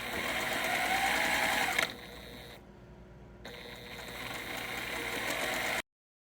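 Sewing machine stitching quilt blocks together, a fast, even mechanical whir that drops briefly, stops for a moment, then starts running again before cutting off abruptly.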